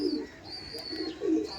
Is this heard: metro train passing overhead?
no